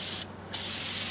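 Paint hisses from a spray gun in two steady bursts separated by a short pause, close and fairly loud.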